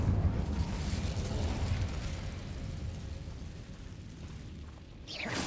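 A fiery Incendio spell blast in the video game Hogwarts Legacy, heard as a dense, rumbling roar of flame that slowly fades, followed by a brief swooshing burst at the end; no speech.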